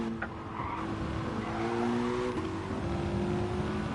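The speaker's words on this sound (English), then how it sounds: "You can look after your tyres a bit more on this game, basically reducing the amount of sliding you're doing." Car tyres slide and squeal on track in Gran Turismo on PS4, a steady loud screech over continuous engine drone that holds for several seconds without pause.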